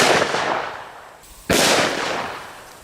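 A .500 Smith & Wesson Magnum Performance Center revolver with a 10.5-inch barrel fires a 700-grain hard cast round. The sharp, loud blast comes alone, following the fading tail of an earlier shot.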